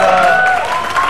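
A studio audience on the Indonesian Ramadan sahur TV show Alhamdulillah Kita Sahur applauds a performer, a brief burst of clapping mixed with a tonal voice or music.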